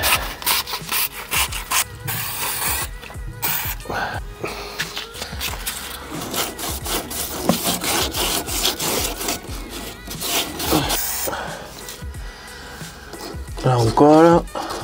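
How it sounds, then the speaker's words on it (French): A pipe in a crawl space being sanded and stripped before a 40-32 reducer is fitted, with rapid, uneven scraping strokes close up, plus a few brief bursts of other noise near the end. "Comme d'habitude, on va poncer,"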